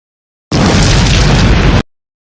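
A loud explosion sound effect erupts as one dense, sustained blast lasting over a second before cutting off abruptly, with nothing else around it.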